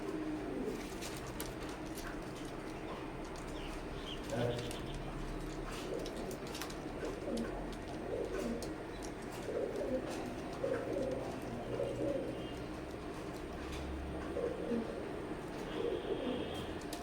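Imported teddy pigeons, a breeder pair, cooing steadily at close range in repeated soft, low bursts, with faint background chirps and a little distant voice underneath.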